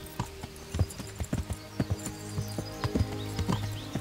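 Horse hooves clip-clop in a steady walking rhythm while riding through the medieval game world of Kingdom Come Deliverance, each step crisp and fairly close over a low ambient bed.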